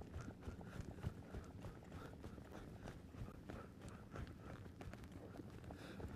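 A trained horse ridden by a horseman doing softening work, its hooves clip-clopping in a steady walking rhythm at moderate distance over a low, continuous background.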